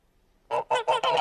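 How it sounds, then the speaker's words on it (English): Geese in a park give four loud, close, nasal honks in quick succession after a short quiet lead-in. "This one has geese."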